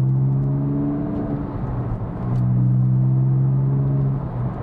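A Porsche 911 fitted with a new exhaust accelerates, its engine note droning steadily, dipping briefly and then swelling again with a deep, throaty rumble.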